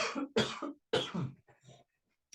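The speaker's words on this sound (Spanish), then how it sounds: "Me disculpo una vez más por mi tos" Several harsh coughs in a row, close and loud, followed by quieter throat-clearing and a brief pause, with no speech.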